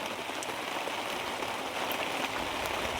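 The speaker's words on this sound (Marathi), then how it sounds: "आमच्या इकडे तर पाऊस बघा बघा कामाला आलतो" Heavy rain pours down steadily, a dense, unbroken hiss of drops drumming on surfaces close by, loud and constant throughout with no voices.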